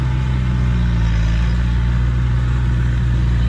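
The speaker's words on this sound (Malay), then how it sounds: "Kejap bunyi bising kereta." A car passes along a road near a durian farm, a steady loud engine rumble with low-frequency drone filling the whole span, no talk over it.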